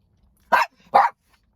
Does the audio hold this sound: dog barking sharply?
yes